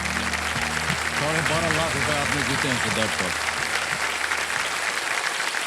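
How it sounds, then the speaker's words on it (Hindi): Studio audience applause for a contestant on a quiz show, steady loud clapping running throughout beneath a host's voice speaking over it. "तालियां बज जाए इनके लिए।"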